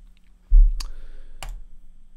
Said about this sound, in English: type Ultimaker Cura into our web browser. Ultimaker space Cura and click enter